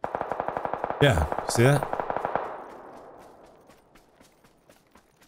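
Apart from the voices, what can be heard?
gunfire from the video game PUBG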